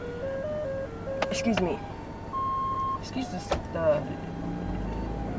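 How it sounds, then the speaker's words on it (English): An ice cream truck plays its jingle of clear melodic tones nearby, with a person speaking over it in spells and brief knocks and rustles mixed in. "the ice cream truck behind me playing songs"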